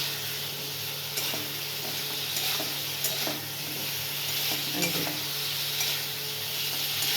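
Spice masala frying in a pan with a little water added, cooking for a light fish curry: a steady soft sizzle with occasional scraping stirs, fairly quiet and close.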